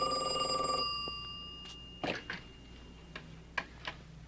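An old landline telephone rings after a call is dialed: a loud bell ring at the start, then fading, followed by several sharp faint clicks and taps in a quiet room, no voices.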